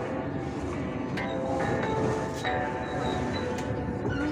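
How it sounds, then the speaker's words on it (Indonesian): A local Bandung Raya commuter train rolls past near Ciroyom station in Bandung, giving a close, continuous rumble with faint clanks and metallic squeals. "Dan ini ada kereta api"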